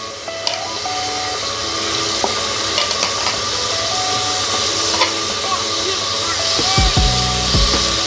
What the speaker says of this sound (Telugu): ఆయిల్ వేడెక్కాక ఈ టమాటా, పచ్చిమిర్చి, ఉల్లిపాయ ముక్కలు వేసుకోవాలండి.